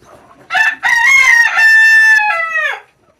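A desi country rooster crows once, loud and close, a long drawn-out cock-a-doodle-doo that ends abruptly in quiet.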